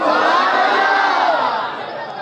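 Large crowd at a religious gathering in Kotli Mughalan, Gujranwala, raising a loud, sustained collective chant of slogans, broad and steady before easing slightly toward the end.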